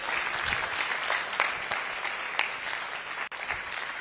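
An audience at a talk show on inclusive development claps steadily throughout, a dense, even patter of many hands filling the room, with a few sharper individual claps standing out and a brief dip near the end.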